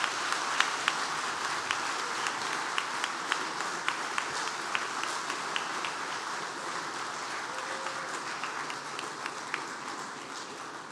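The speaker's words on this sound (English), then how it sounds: "the applause tells you how well you were received" Sustained audience applause fills an induction ceremony hall, a dense, steady wash of many hands clapping with a few sharper individual claps standing out, continuing evenly without speech.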